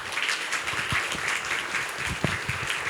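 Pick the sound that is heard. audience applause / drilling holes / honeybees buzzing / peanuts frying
audience applause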